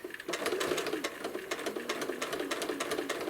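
A sewing machine stitching slowly around a curve on an apple core quilt, with a steady rapid needle chatter and motor whir, close and alone.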